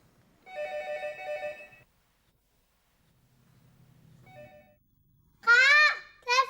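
A home telephone rings in a short electronic trill, pauses, then rings again more faintly, followed by someone speaking nearby.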